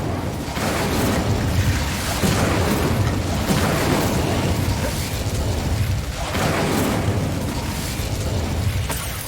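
Incendio fire spell in Hogwarts Legacy, loud repeated fiery bursts and whooshing blasts over dense, continuous combat noise, with no voices heard.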